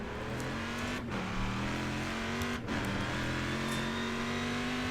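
Race car engine in the iRacing sim drones steadily and loud, its pitch holding high with a short dip and recovery around each gear change, nearby cars audible underneath.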